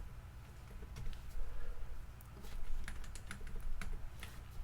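Rapid, irregular keystrokes on a computer keyboard while code is typed, soft clicks coming close and steady in short runs with small pauses.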